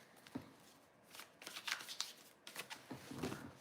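Playing cards are riffled and shuffled in several quick bursts, close but soft, with light papery flicks between them.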